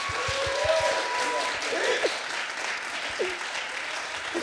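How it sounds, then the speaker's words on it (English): Applause from a festival audience, a fairly steady clapping crowd with brief voices and a few low thumps mixed in. "Please give me applause."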